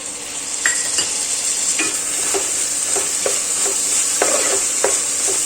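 Chopped tomatoes and onions fry for a coconut-milk chicken curry, giving a constant bright sizzle. A utensil scrapes the pan in a regular stirring rhythm, close by.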